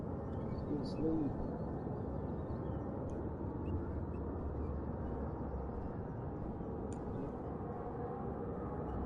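An owl hoots faintly, a soft low call early on, within the CarX driving game, set over a steady, dense ambient hiss that fills the whole stretch.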